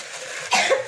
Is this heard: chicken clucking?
no